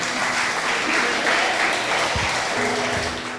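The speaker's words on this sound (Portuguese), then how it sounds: "dê um aplauso ao Senhor." A church congregation applauding, dense sustained clapping that fills the room and holds steady before tapering slightly at the end.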